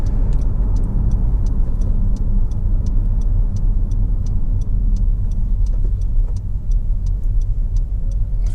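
A Honda CR-V 2.0 i-VTEC Black Edition 4x4 five-door accelerates with a loud, steady engine and road drone heard from inside the cabin, while a faint regular ticking repeats throughout.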